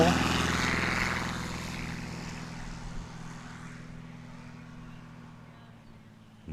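A STOL competition aircraft on its takeoff roll in Jennings, Louisiana: engine and propeller roar loud and close at first, then fade steadily as the plane pulls away.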